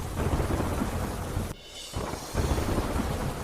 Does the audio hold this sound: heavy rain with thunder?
yes